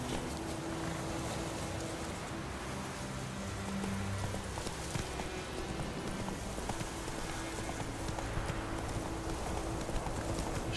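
Geralt's horse Roach in The Witcher 3: Wild Hunt, hooves clopping in a continuous, even rhythm beneath a steady bed of ambient game sound and music, with no talk.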